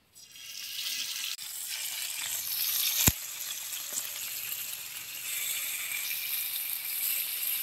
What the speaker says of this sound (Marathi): आता तेल चांगलं गरम झाले, आता याच्यात मासं घालायचं.